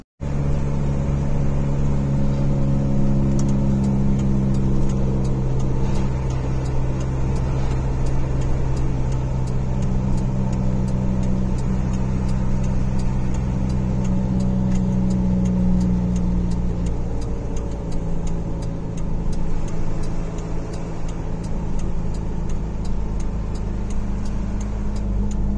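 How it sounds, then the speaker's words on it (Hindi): A vehicle engine in Sharjah runs steadily from up close for the whole stretch, a constant low droning rumble with no talking over it. "अब आ गया हूँ, गाड़ी में बैठता हूँ।"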